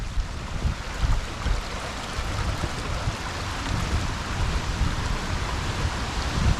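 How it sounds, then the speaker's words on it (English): Creek water swollen by Hurricane Ian's rain rushes strongly through a channel by a large tree, a loud, steady roar and wash that swells slightly in places, with no talk. "Water's flowing through there strongly."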